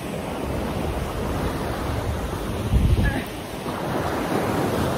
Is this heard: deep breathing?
no